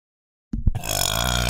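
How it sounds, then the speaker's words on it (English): A loud, close burp after drinking Coke erupts suddenly from silence, preceded by a couple of short throaty gulps, then stretches into a long, sustained belch. "I have to burp, help."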